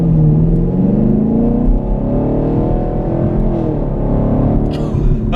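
A 2017 Chevrolet Camaro 2SS V8 engine revs loud and close, its deep rumbling note rising in pitch as it accelerates, then settling into a steady drone with no talk over it.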